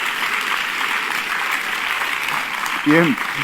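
Audience applause at a public event honouring an institution, a steady wash of clapping throughout with a brief voice rising near the end.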